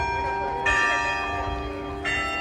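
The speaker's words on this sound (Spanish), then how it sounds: "mirad, tocan las campanas" Church bells ring out at the Covadonga basilica in Asturias, a steady sustained peal with sharp renewed strikes, loud and resonant in the open air.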